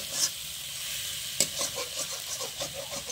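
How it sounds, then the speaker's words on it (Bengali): Onion paste frying in a pan for a home-style pond crab curry, a steady soft sizzle with occasional stirring scrapes and a sharp clink near the middle, fairly quiet and without talk. "পেঁয়াজ বাটা দিয়ে একটু ভেজে নিই"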